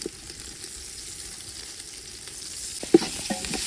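Ginger-garlic and spice paste with salt frying in a pan, a soft steady sizzle with a few stirring clinks and scrapes near the end.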